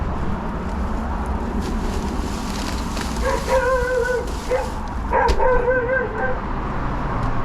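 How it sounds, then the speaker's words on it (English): Dogs bark and yip in two short bursts somewhere outside a delivery vehicle, fairly distant and faint over steady road and cabin noise. "Listen for dogs, folks."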